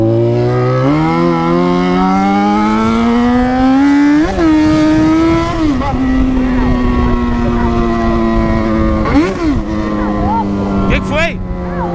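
A Yamaha XJ6 motorcycle rides down a street, its engine droning loud and close, rising in pitch as it accelerates, with a few throttle blips and gear changes, while someone talks over it.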